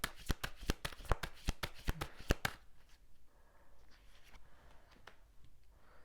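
Tarot cards being shuffled by hand during a reading, a quick run of crisp riffling snaps for about two seconds, then softer scattered card handling and faint rustles, close and fairly quiet.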